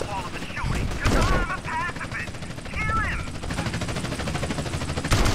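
Shotgun fire in Grand Theft Auto: San Andreas comes as sharp, loud blasts, one early and another near the end, with rattling game noise and a voice talking in between.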